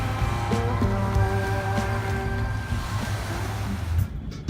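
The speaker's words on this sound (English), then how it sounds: "They took us to this chill beach called Tenis Beach." Ocean surf washing ashore at Tenis Beach in Cuba, a steady broadband roar of waves with some wind, continuous and fairly loud with low rumbling tones underneath.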